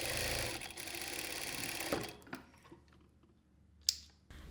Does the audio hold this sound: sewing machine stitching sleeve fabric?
yes